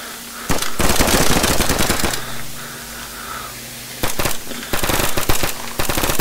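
Rapid bursts of light machine gun fire in a Minecraft shooter mod, loud and close, one long stuttering burst, a pause with a low hum, then several more short bursts.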